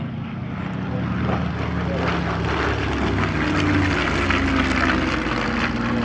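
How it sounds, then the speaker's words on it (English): Warbird at an airshow fitted with a Russian Ash-82 radial engine in place of its original BMW 801, droning steadily throughout, a continuous loud propeller-engine roar with no break. "The engine, for example, is a Russian Ash 82 rather than the original BMW 801."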